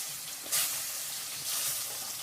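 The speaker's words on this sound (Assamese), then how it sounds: "আলুখিনি ৰঙাকৈ ভাজি দিছে" Potatoes fry in hot oil for mutton kosha, giving a steady close sizzle with two brief louder hissing surges about a second apart.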